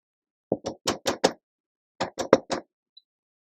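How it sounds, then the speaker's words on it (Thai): Knuckles rap sharply on a door as an audio drama sound effect: a quick run of five knocks, a pause, then four more, close and crisp against silence. "เสียงเคาะประตูก็ดังขึ้นขัดจังหวะ"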